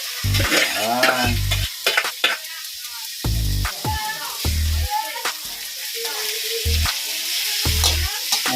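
Chopped banana heart stir-fried in a pan, with loud, repeated scraping and clattering strokes over a steady sizzle and a few brief tonal squeaks between stirs.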